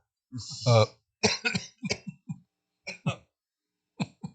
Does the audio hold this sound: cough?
yes